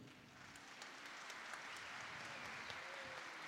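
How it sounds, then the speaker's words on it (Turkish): Audience applause for saz players at a municipal Berat Kandili evening program in Aliağa, a faint, steady wash of clapping from a crowd that holds evenly throughout. "Bu sazlara bir alkış yakışır."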